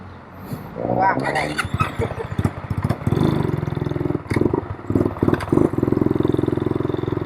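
A motorcycle pulls away from a fuel pump after refuelling, its engine starting with clatter and then revving unevenly up close, with someone talking over it.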